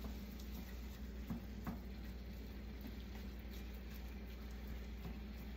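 Ground beef fries in a pan with a soft, steady sizzle and faint crackle, quiet and continuous, with occasional light taps of a utensil stirring the meat.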